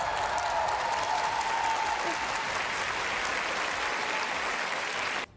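A stadium audience applauds at the close of a national anthem, a dense, steady roar of clapping that stays loud throughout before cutting off abruptly at the end.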